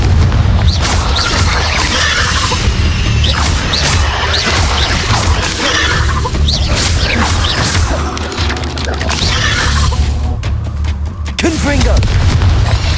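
Fiery Confringo spell blasts boom again and again during Hogwarts Legacy combat, dense explosive bursts and crashes layered over a constant loud rumble for the whole stretch, with a voice shouting among them.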